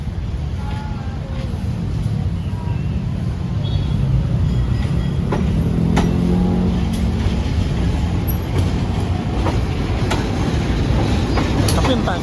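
Indonesian railway scene with a baggage car from the Serayu train being pushed along the tracks: a loud, continuous rumble with rolling wheel clatter and scattered metallic clicks, close by.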